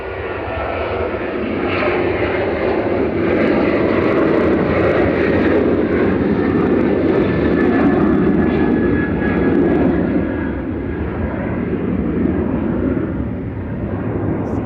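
A Boeing 737-800 jet airliner at Manchester Airport roars loudly and steadily, its broadband engine rumble swelling slightly in the middle and easing toward the end with a faint high whine.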